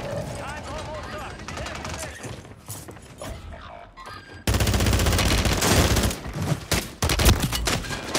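Loud, dense bursts of AK rifle gunfire in Call of Duty, rapid overlapping shots that swell sharply halfway through amid game noise, with talk running over them.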